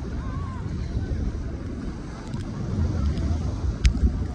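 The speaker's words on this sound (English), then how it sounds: "Big waves." Big ocean waves surging and washing under gusty wind buffeting the microphone, a continuous rough roar with a sharp splash or knock near the end.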